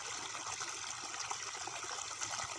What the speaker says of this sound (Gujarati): ચાલો મિત્રો પાણી તો પહોંચી ગયું